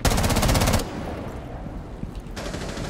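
Automatic gunfire in Rainbow Six Siege opens with a loud, rapid burst, then drops to quieter game ambience and scattered noises before another fast volley starts near the end.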